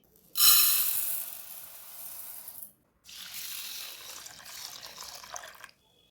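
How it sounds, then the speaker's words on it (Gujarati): Urad dal being rinsed with water in a vessel: a loud splashing pour, then a short pause and a second, steadier stretch of sloshing water, with no voices. "તો દાળને આપણે અહીંયા 2 થી 3 વાર ચોખ્ખા પાણીએ ધોઈ લીધી છે।"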